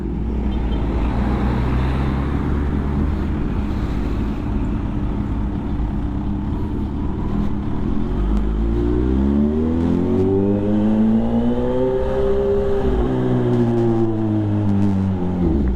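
Cars rush past on a highway in a steady, loud roar of traffic, with one vehicle sweeping close by and its engine pitch rising and falling as it passes.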